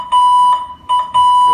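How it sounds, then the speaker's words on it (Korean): Timer alarm from a free Tabata workout phone app: a loud electronic beep tone repeating in two-part bursts, clear and close, with no talking. "타이머 기능이 있어서 타이머 틀어놓고도 쓸 수 있고요"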